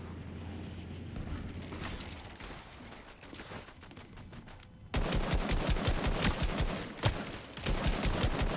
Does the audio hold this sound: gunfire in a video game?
yes